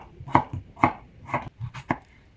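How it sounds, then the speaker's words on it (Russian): A knife thinly slices potatoes on a cutting board in five crisp, evenly spaced chops, close up and without any voices. "а картофель режу тонко"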